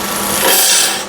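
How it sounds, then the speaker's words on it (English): A parting tool cuts into spinning wood on a lathe for a salt and pepper shaker, a brief loud rasping scrape that swells in the middle and then fades. "I'll set that in with the parting tool."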